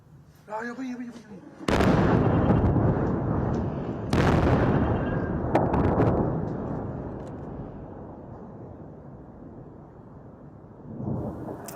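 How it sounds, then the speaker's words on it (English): An Israeli strike in Beirut sets off a loud explosion, a sudden deep blast followed by a second boom and a long rumbling roar that slowly fades, with a brief voice just before it. "This is the moment the explosion happened."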